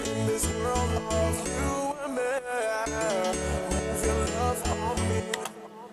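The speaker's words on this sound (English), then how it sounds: "and then I break into a piano for the chorus." Piano chords ring out in a deep house chorus, layered over a steady bass and beat in a dense, continuous mix that thins out at the very end.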